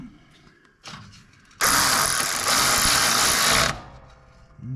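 A power tool drives in the belt keeper bolt on a Craftsman R1000 30-inch riding mower: one loud, close, continuous whirring burst of about two seconds, with quieter handling noises before and after.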